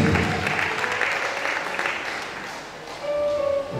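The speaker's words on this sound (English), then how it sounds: "A round of applause, please." A congregation at a church men's day program gives a round of applause, with a steady wash of clapping from the crowd and a brief voice cutting in near the end.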